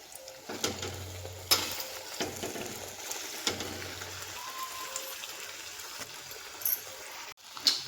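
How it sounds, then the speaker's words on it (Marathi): Vadas fry in hot oil in a pan over a low flame, with a continuous bubbling sizzle, scattered sharp clicks and some stirring clatter, close and fairly quiet. "हे सगळे वडे मंद आचेवर तळून घ्यायचे"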